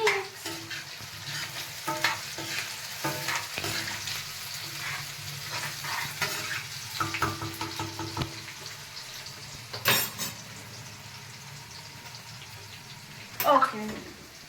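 Food is stirred in a frying pan with chillies and onion, giving soft sizzling and irregular scraping clatters, with a couple of louder knocks and scrapes partway through. Quiet speech runs beneath.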